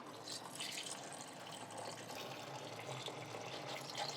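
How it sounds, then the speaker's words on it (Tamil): Water is poured steadily into a fish tank being set up, a faint, continuous splashing and trickling that goes on without a break and without talk. "தண்ணி ஊற்றிட்டுருக்கீங்க ரொம்ப நேரமாக, என்ன பண்ணுறீங்க?"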